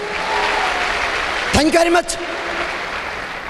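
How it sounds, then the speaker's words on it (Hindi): Applause from an audience at a motivational business event, a broad wash of clapping running steadily throughout with a voice briefly speaking over it partway through. "अपने लिए जोरदार तालियां बजाइए"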